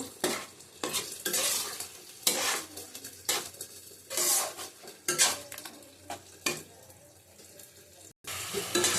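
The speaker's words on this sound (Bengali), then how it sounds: "অল্প করে জল দেবো, হলুদ দেবো 1/2 চামচ, দিয়ে ভালো করে কষিয়ে নেব" Shrimp curry with tomato, turmeric and a splash of water being sautéed in a pan: close, irregular scraping strokes of a spatula over a soft sizzle, with bursts of clatter against the pan and a short gap near the end.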